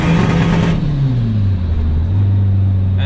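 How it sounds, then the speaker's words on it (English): A street-legal VW Polo running semi-slick tyres revs hard in second gear, its engine note rising steadily as it rolls into turbo boost, close and loud with no voices. "So I'm gonna do a second gear, roll it into boost and show you guys how crazy this thing is."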